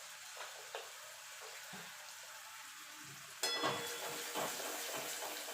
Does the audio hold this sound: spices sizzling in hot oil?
yes